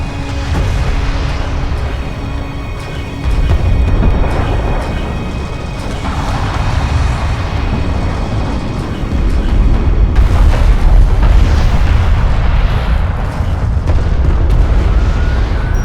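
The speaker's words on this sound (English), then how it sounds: "Missile sequence initiated. Target set. Missile away." Missile launches and explosions in the real-time strategy game Deserts of Kharak, a steady rumbling barrage of deep booms and blasts lasting throughout, swelling louder in the second half with layered impacts and battle noise.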